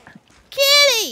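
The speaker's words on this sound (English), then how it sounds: "Can't pet the sheep either." A sheep bleats once in Far Cry New Dawn, a loud, close, wavering cry lasting about half a second after near silence.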